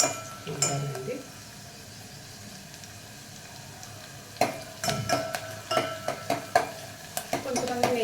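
Garlic and onion sauté in peanut oil over a high flame, sizzling softly beneath a voice while a spoon scrapes and clinks against the pan in repeated strokes.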